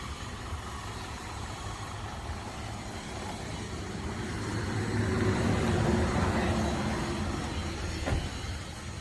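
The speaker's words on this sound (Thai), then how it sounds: "ยียบคันเร่งไม่มีควันออกท่อไอเสียเลยนะ" A Hino Mega Cab truck with a 210-horsepower JO7E diesel engine is revved at a repair garage, a low rumbling idle that swells into a longer throttle rise midway and then settles, heard fairly close.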